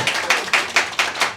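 Comedy club audience clapping for nurses, six distinct rhythmic claps in quick succession, close and moderately loud with no talk.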